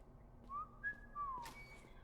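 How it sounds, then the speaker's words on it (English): A cat character whistles in the indie video game Sparky Marky, a few faint short rising and sliding whistle notes spaced out over a quiet background. "you might hear Sparky Marky cat whistling you"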